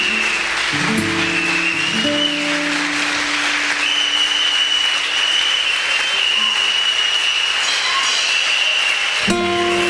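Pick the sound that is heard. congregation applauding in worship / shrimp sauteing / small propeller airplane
congregation applauding in worship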